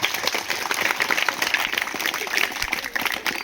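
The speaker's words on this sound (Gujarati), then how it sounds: "પહેલા તો આ બધી ટીમ માટે જોરદાર તાળીઓ થઈ જાય." A crowd at a school quiz event claps in a sustained, dense round of applause for the competing teams, steady and fairly loud throughout.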